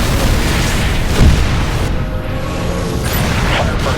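Artillery explosions in the Halo Reach video game, heard as a dense, loud rumbling barrage with one heavier boom near the middle.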